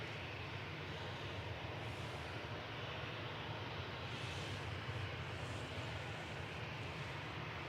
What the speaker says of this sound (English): EasyJet touching down from Amsterdam, GEZTX, A320-200